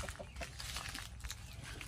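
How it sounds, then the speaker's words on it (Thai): Native backyard chickens and laying hens cluck softly in a home garden beside banana clumps, with faint, scattered calls over a low, steady outdoor background. "มีไก่บ้านด้วยแล้วก็มีไก่พันไข่ด้วยค่ะ"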